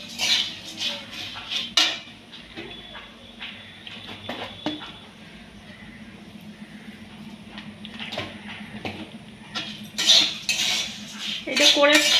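Puffed rice with a little salt is stirred in a pan, with metal utensil scrapes and light rattling clinks that come in bursts, busiest near the start and toward the end, over a quiet kitchen background.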